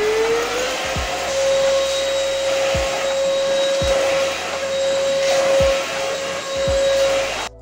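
A light cordless vacuum cleaner fitted with a small brush nozzle runs steadily on a sofa, a loud continuous motor whine with a few soft bumps as the head moves across cushions.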